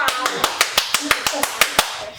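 Hand claps in a hide-and-clap game from the horror film The Conjuring, about ten sharp, evenly spaced claps in a quick steady rhythm, close and loud.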